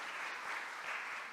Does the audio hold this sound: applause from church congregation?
yes